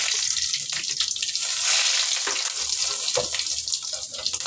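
Broken dried red chillies frying in hot oil for a yellow pumpkin poriyal, a steady close crackling sizzle running throughout with small pops and spits, no voices.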